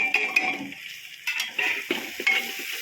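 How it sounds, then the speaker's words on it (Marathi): Spice masala paste with red chilli powder, garam masala, coriander powder and turmeric being stirred and sautéed in oil in a pan for a Maharashtrian mixed-vegetable bhaji, with soft sizzling and intermittent scraping, clinking stirs against the pan. "मसाल्याला चांगलं तेल सुटेपर्यंत चांगलं परतून घ्यायचं"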